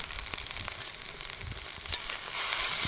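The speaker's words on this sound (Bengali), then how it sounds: "মশলাগুলো কষিয়ে নিয়েছি তিন চার মিনিট ধরে আর মশলার উপর দিয়ে দেখুন তেল ভেসে উঠেছে" Spice paste cooking down in oil in a pan for a yoghurt-based fish curry with cashew and raisin paste, giving a steady close sizzle and crackle that swells louder toward the end, with no talking.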